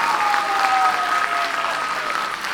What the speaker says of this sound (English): another round of applause for all these very